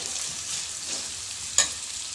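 Tomatoes frying in oil in a pan while pulao is being made, a steady dense sizzle up close with a single sharp clink of a utensil partway through.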